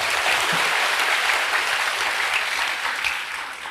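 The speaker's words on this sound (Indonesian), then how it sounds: "Berikan tepuk tangan kita untuk Tuhan kita." A church congregation gives sustained applause during a service, a thick, even roar of many hands clapping that fades slightly toward the end, without speech over it.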